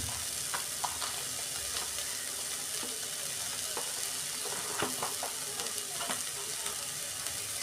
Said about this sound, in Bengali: এই যে মশলাটা কষানো হয়েছে